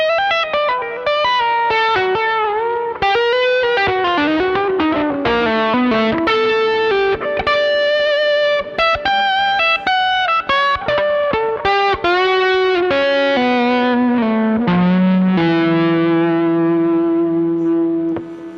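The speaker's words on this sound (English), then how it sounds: "you got different dirt pedals on your board" Electric guitar run through distortion pedals plays a busy, sustained lead line of bent and held notes, loud and unbroken for almost twenty seconds, with no talk.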